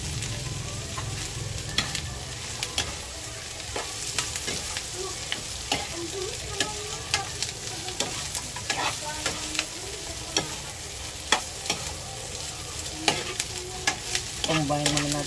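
Tofu stir-fried for tofu sisig sizzles steadily in a pan, with frequent clinks and scrapes of a spatula stirring throughout and a sharp burst of sizzle near the end; no talking.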